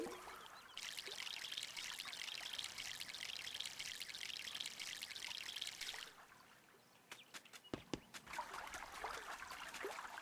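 Watering a plant in the MySims video game: a steady pour of water runs for several seconds, stops briefly, then resumes as a softer trickle, fairly faint.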